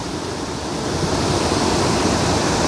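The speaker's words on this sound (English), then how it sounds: "we're looking at, as you can see, a waterfall there" A waterfall in Manchester gives off a steady, full roar of running water that holds even and continuous throughout, like dense broadband rushing with no other sounds over it.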